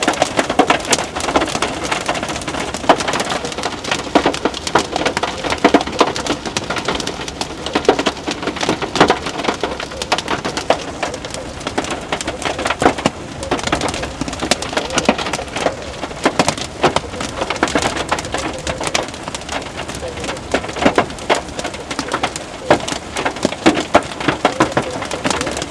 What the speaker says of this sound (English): We're getting dumped on by pea-sized hail.